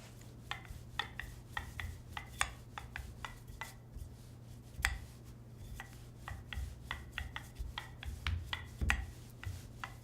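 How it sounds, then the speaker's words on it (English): Croissant dough on its third and final turn is rolled out with a rolling pin, giving soft, repeated rubbing and knocking strokes in an irregular rhythm, close and fairly quiet, with no talk. "You'll see the dough is much easier to roll out now."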